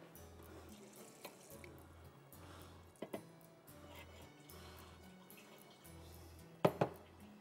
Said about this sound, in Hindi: मैं इसको एक दफ़ा पानी से निकालूँगी दोनों चीज़ों को